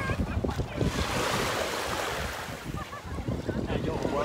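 Sea waves wash over a pebble beach on the Mediterranean, a steady broadband surf with some wind noise, while voices talk over it throughout.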